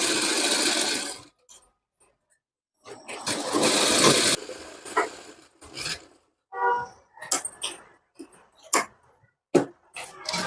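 Sewing machine stitching a blouse runs in short bursts: one long run, then several brief stop-start stitching spurts with quiet gaps, close and fairly clear.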